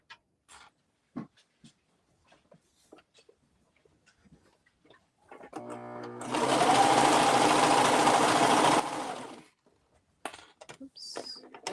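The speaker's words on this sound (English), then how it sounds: "Praying that my serger decides it likes me today." Serger stitching a hoodie seam: a short start, then a loud, fast mechanical whirring run of a few seconds that stops abruptly. Scattered clicks and light handling noises surround it.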